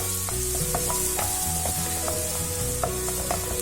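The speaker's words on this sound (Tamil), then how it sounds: "வெங்காயம் கொஞ்சம் வதங்கட்டும்" Onions sizzle and fry steadily in a pan for prawn gravy, with soft stirring scrapes and clinks of a spoon recurring through a continuous hiss, close and fairly loud.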